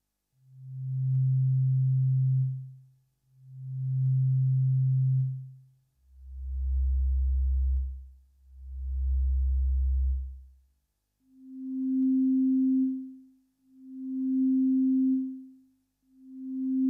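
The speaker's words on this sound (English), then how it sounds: "the attack click noise gets delayed and you can still hear the release click noise as well" A Yamaha DX7 synthesizer plays pure, smooth tones in pairs, two mid notes, two deep bass notes, then three higher notes, each swelling in and fading out with gaps of silence.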